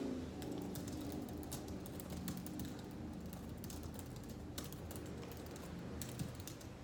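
Close fingers typing on a computer keyboard, a quick irregular patter of key taps with brief pauses, set against a quiet room background.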